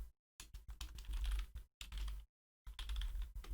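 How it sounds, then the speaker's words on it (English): Quick bursts of typing on a computer keyboard, clusters of close, crisp key clicks separated by short silent gaps. "I'm typing it in on Google"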